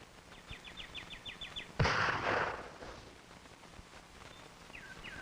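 A single sharp report from a Remington 540X .22 target rifle rings out at an outdoor range with tractor tires around the shooters, followed by a brief decaying echo, with faint clicking before it.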